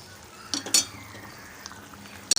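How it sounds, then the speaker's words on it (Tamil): Jaggery is stirred into a pot of tamarind appalam kuzhambu, with a few light spoon clinks and scrapes against the pot over a steady simmering hiss. "வெல்லம் கரையட்டும் சேர்த்து மிக்ஸ் பண்ணிக்கலாம்"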